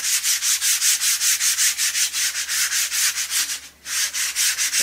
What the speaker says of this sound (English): I'm going to go in with my sanding disc